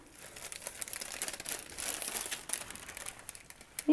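Crinkling of a single thin sheet of breakfast bag paper being unfolded while making a paper star ornament, a steady close papery rustle with small crackles throughout and no talk.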